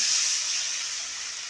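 Water poured into a pan of frying Bombay duck fish curry makes a close, loud sizzling hiss of steam that eases slightly over a second and a half, with no speech.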